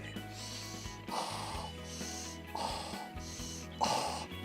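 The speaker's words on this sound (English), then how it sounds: "I'll be here sniffing this frangipani." Several slow, breathy sniffs of a frangipani flower, about three or four, each a soft rasping inhale over a low steady hum.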